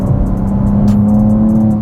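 A BMW with an S58 engine on a flex fuel tune pulls hard under acceleration, a loud, close, steady engine drone with a rising tone and no gear breaks over a couple of seconds.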